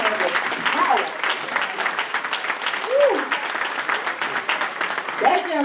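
An audience at a foundation event breaks into steady applause, with whoops and cheers rising over the clapping and voices mixed in throughout.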